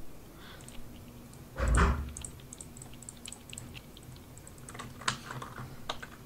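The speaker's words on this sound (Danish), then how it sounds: "man kan høre din mus" Computer mouse and keyboard clicks during a Minecraft-style survival games session, heard as scattered close clicks and taps with one louder thump, no talk over them.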